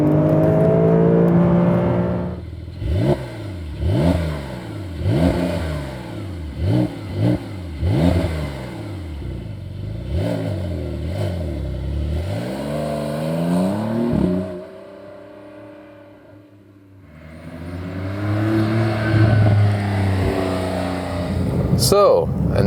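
A Porsche 911 of the 992 generation accelerates hard, its engine revving up through several rising sweeps with gear changes, then dropping away before climbing again, heard close alongside a voice talking.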